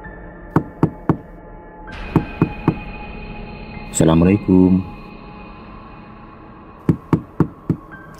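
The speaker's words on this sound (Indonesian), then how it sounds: "Hasan pun kemudian mengetuk pintu." Knuckles rap on a door in short groups of three sharp knocks, loud and close, repeated twice, with a voice calling out a greeting between the groups.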